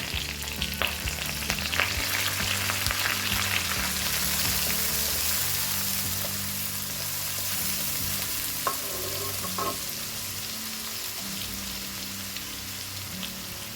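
Red chili and basil sizzling and frying in a hot pan, a steady close crackle with occasional stirring clatter and a low hum beneath, going on without any talk.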